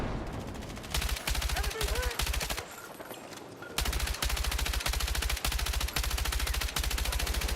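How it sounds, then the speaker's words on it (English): Gunfire from a video game shooter, loud sustained automatic bursts that run for about two seconds, pause briefly, then resume in a long continuous stream, heard up close. "Am I shooting at a whole lot of nothing in there?"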